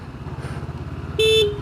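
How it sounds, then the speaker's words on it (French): Short horn toot from a Honda CB500X motorcycle, a bright steady beep lasting about a quarter second, sounding loud and close over the continuous low rumble of the running engine. "Au lieu de mettre le clignotant, j'ai klaxonné."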